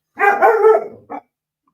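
A puppy gives a couple of close, loud barks: one longer yelping bark followed by a short final yip, then silence.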